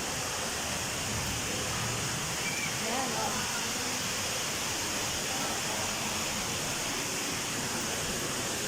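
Water roars steadily over a dam in a mountain setting, a dense, constant rush that fills the scene, with a voice speaking briefly over it.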